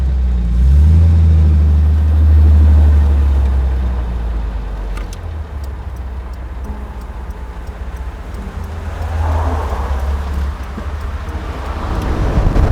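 A 1960s Mini Cooper driving with the top down, its engine droning low and steady, swelling and easing as it moves along, with faint ticking and road noise and no talk.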